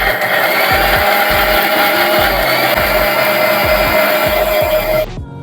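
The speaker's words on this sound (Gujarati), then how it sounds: "મિક્સરમાં પેસ્ટ બનાવી લેશું।" An electric mixer grinder purees boiled tomatoes, garlic and red chilies into paste, roaring loud and steady for about five seconds before cutting off abruptly.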